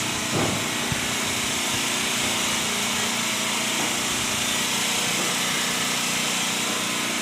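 Madurai–Guruvayur Express train engine at Sengottai railway station, a loud, steady diesel drone with a hissing wash that holds evenly from start to finish.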